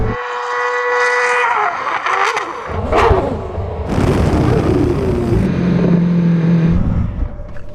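A supercar brakes hard from 100 mph on a test strip, its engine note dropping away into a rushing roar of road and wind noise, loud and close throughout.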